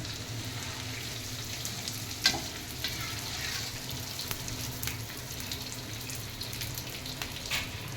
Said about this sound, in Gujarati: આપણું ઘી વ્યવસ્થિત ગરમ થઈ ગયું છે હવે આપણે એમાં આવી રીતના ગુણ નાખીને